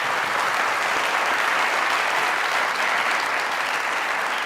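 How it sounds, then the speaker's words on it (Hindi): A studio audience at a comedy show claps in loud, sustained applause that fills the whole stretch, close and dense, with no talking over it. "चीमा साहब के लिए यार तालियां।"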